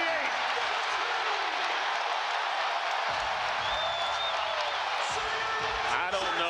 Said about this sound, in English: I don't know that I've ever heard this arena this loud. This crowd is on their feet.